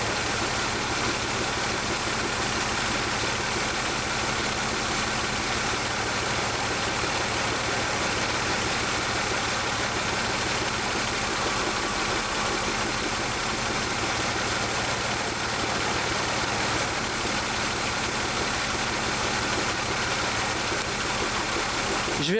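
A BMW 328i idles steadily with an ignition misfire and one coil unplugged, a continuous, close, rough engine drone that runs on without a break.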